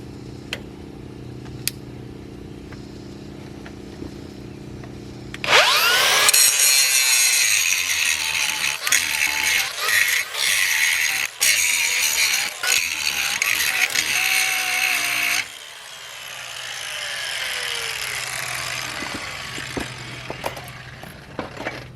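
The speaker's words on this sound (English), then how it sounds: "Now we're going to put the grinder wheel on and dress them up a little bit." A grinder wheel dresses metal on a truck's stripped 2WD suspension after chisel work, a loud harsh whine lasting about ten seconds with uneven bursts, then cutting off into quieter background hum.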